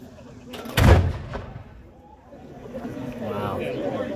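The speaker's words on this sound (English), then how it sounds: "focus your attention toward the Chapel of the Ozarks for the firing of the cannon" A single loud cannon boom from the Chapel of the Ozarks at Payne's Valley golf course, Branson, Missouri, cracks out and rolls away in a long echo, followed by murmuring voices in the distance.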